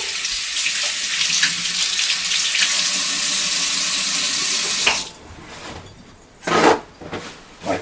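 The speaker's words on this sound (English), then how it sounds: "So I'll give my hands a quick wash." Running kitchen tap pouring loudly into a sink for about five seconds while hands are washed under it, then cut off, followed by a couple of brief splashes and knocks.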